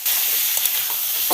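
Poultry meat dropped into spiced masala sizzles and fries steadily in a pan, a continuous close hiss with a brief louder burst of sizzle near the end, no voices.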